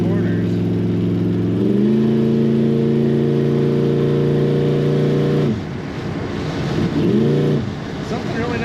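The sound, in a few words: 1975 Chevrolet Corvette engine through chrome side pipes while driving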